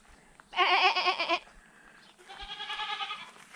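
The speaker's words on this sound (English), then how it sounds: "Ah, there's a goat." A goat bleats twice out in the Turkish countryside, a close, loud wavering cry followed after a short pause by a longer, slightly softer call, with no talk over it.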